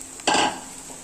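Chopped onion hits hot oil in a pan while cooking bitter gourd curry, a single brief sizzling burst that settles into a softer steady frying hiss.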